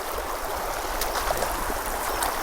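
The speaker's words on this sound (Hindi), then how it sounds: "आप पानी की रफ्तार से आप देख सकते हो कि कितना ज़्यादा पानी इस खेत में जा रहा है" Floodwater from incessant rain rushes steadily into a farm field beside a road near Kley, giving a continuous broadband roar close by with no pause and no talk.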